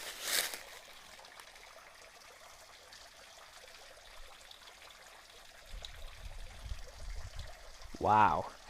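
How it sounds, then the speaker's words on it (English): A small creek and waterfall on wooded Missouri acreage in Laclede County give off a soft, steady trickling wash that stays faint throughout, with a brief louder burst near the start and a louder passage toward the end. "That's one of the little creeks and the small waterfall."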